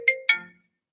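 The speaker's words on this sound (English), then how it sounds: "Hold on, I'm going to get a phone call" An incoming call sets off a phone ringtone, two quick bright chime notes close together that ring out and fade, then silence.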